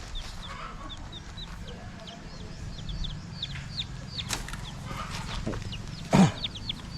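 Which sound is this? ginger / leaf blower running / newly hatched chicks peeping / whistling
newly hatched chicks peeping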